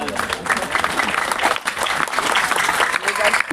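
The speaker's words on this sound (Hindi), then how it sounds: "बच्चों तालियां कमजोर है।" Children clapping and applauding at a charitable trust's education event, a steady crowd of claps with voices talking over them throughout.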